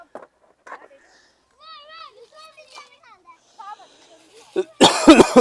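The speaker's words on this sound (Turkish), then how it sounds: "ya bu öksürük mü oldu bana ya" A short, harsh burst of coughing near the end, loud and close, after quieter scattered vocal noises and faint chatter.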